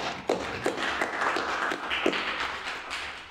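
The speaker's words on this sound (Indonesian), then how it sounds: "Tepuk tangan untuk kita semua" A small podcast crew at a vocational high school applauds together, a brief burst of scattered claps with a few sharper taps standing out, close by and with no talking.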